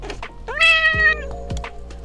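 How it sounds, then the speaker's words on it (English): A house cat gives one drawn-out, rising meow, close and clear, and a couple of knocks or thumps follow it. "Did your cat say another word?"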